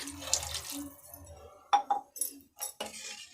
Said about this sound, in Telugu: దీంట్లో 1 గ్లాస్ నీళ్ళు పోస్తాను నేను